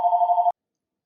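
A house telephone rings once in a steady electronic tone, loud and close, lasting about half a second before cutting to silence.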